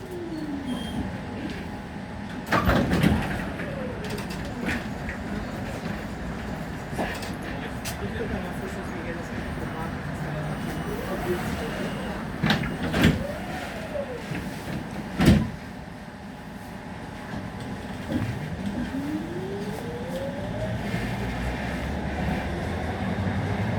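A train rolls along with a constant rumble, wheel squeals and sharp clunks, while people talk in the background.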